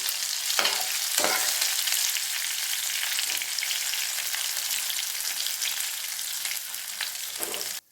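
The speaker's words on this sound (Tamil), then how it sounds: "எல்லா இறாலையும் ஃப்ரை பண்ணி எடுத்துகிட்டு வந்துட்டோம்." Prawns fry in a pan of oil, a steady loud sizzle lasting throughout with occasional spatula clicks and turns, close up and unbroken by speech until it cuts off abruptly.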